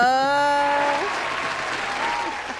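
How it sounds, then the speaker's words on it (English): A studio audience breaks into loud, sustained applause and cheering that fades slightly over a few seconds, with an announcer's drawn-out voice rising over the start of the clapping. "make some noise for Kayode Oladele Kaybobo."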